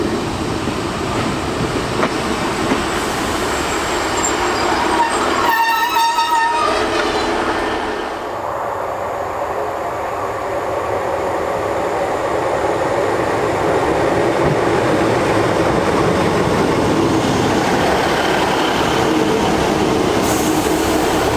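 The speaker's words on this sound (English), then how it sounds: "passenger services are provided by Class 150 diesel multiple units" Class 150 diesel multiple unit train at Upton station in Merseyside, rumbling loudly and steadily throughout, with a brief clatter of wheels on rail and a short high-pitched squeal or horn early on, no voices.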